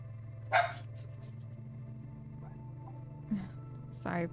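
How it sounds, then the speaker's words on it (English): A small dog barks indoors, a short yip early on, another bark a few seconds later and a quick double bark at the end, fairly near, over a steady low hum with no talking. "Sorry for the barking."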